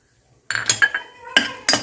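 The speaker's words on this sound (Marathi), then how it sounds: "चार पाच लवंग घेतले आहेत तर मी या तुपामध्ये टाकून घेते" Whole cardamom, cinnamon and cloves dropped into ghee in a pan, giving a few close, sharp clinks and taps against the metal in quick succession, with no one talking.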